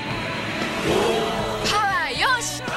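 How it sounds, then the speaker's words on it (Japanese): A Mitsubishi Mirage with a MIVEC engine, from a 1993 television commercial, sounds as a car engine that builds and swells, with rising revving whines near the end, loud and close, under music. "あのミラージュが世界基準を変えたマイベックエンジン新搭載"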